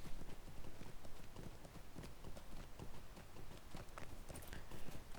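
Horse hooves clip-clop steadily and rapidly in a video game as the rider travels through a farming area toward a farmers market, a continuous loud rhythmic trot with no voices.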